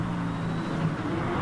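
A Tomahawk race car in the video game Gran Turismo Sport drones with a continuous, strained engine note that holds close and loud over the short stretch, with a rough, odd-sounding tone and no speech.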